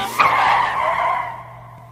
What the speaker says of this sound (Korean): 버스가 갑자기 멈춘 거예요.